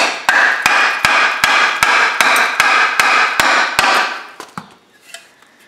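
Hammer blows pound on rusty metal, about a dozen sharp, evenly spaced strikes ringing close and loud, then a few irregular lighter taps as the pounding stops.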